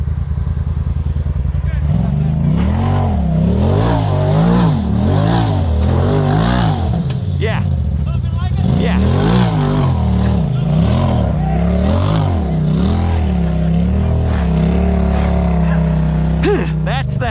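An off-road vehicle's engine revs and labours loudly as it crawls over rocks on the Windrock trail, rising and falling in repeated surges with a steady rumbling drone throughout.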